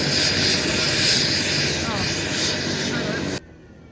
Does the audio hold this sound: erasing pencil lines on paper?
no